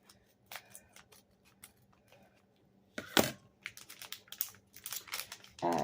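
Envelopes and packages from Amazon being torn and opened: sharp paper rips and crinkling bursts, louder toward the end, over a faint steady hum in a quiet room.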